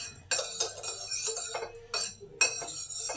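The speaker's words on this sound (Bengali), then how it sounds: "তেলটাকে ভালো করে চাড়িয়ে দিলাম" Oil is stirred in a heavy steel bowl over a low gas flame, with a metal spoon scraping and clinking against the sides in repeated bright, ringing strokes, close and fairly loud.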